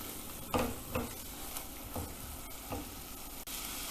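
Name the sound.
dry spices frying in oil for biryani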